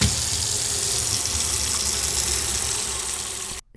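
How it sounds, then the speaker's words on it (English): Water gushes steadily from a tap into a sink, a dense continuous splashing rush that cuts off abruptly just before the end. "And now I am adding water."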